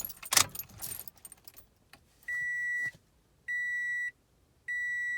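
Keys jangle loudly up close as a 2015 Toyota Corolla is switched off, followed by a steady electronic chime that sounds three times in separate bursts.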